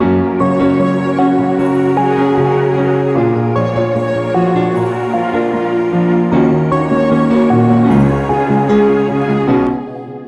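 Pop ballad synth layered with piano, a full sustained chord progression rolling through several changes at a strong, even level with no talk, fading slightly at the very end.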